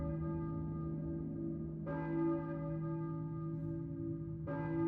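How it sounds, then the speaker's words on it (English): A church bell tolls in the Silent Hill PS1 video game, two deep resonant strikes a few seconds apart, each ringing out with a long humming decay, alone and moderately soft. "a church bell, maybe? Who is ringing the bell?"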